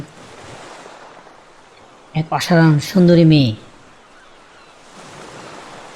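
Ocean waves wash in a soft, steady surge in the background while someone speaks briefly over them.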